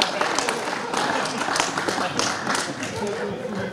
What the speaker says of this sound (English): Round of applause for Nick Shipley